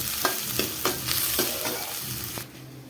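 Garlic, onion and green chili fry in hot oil with cumin, a bright crackling sizzle broken by several sharp stirring scrapes before the sound drops away near the end.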